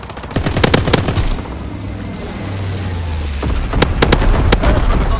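Call of Duty firebombing run dropping incendiary, loud clustered bursts of rapid gunfire and impacts at the start and again near the end, with a low droning rumble between.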